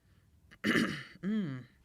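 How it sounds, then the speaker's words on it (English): Two short throat-clearing bursts, the second more voiced and tonal, close up and alone. "I had to clear my throat for that."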